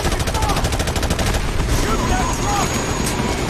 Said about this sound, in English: I'm shooting it, son.